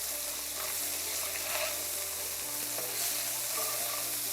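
Onions sauté in butter and salmon juices in a pan, making a dense, steady sizzle and crackle that runs without a break.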